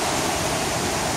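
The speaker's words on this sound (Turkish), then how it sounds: "Gördüğünüz gibi şelale." Düden Waterfall in Antalya roars as a loud, dense, steady rush of falling water close by, with no voices over it.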